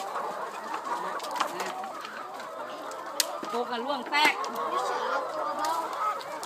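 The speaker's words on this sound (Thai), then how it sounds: "ไก่ ไก่ ไก่พันไข่ครับ" Laying hens clucking and squawking on a Thai farm, a busy overlapping flock close by with occasional sharp calls, someone talking over them.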